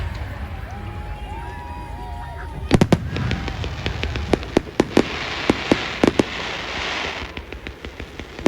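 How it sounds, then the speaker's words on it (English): A fireworks display goes off at Oulton Park after a day of rally car racing, sharp bangs and crackling bursts in an irregular series, loud against a murmuring outdoor background. "So the fireworks are going to go off."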